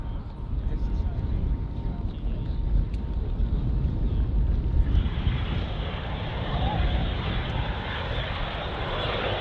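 A Canadair CL-13B Sabre Mark 6 jet flies a display at the Duxford Battle of Britain Airshow with a broad, rushing engine roar. The roar swells louder and brighter partway through, and a commentator talks over it.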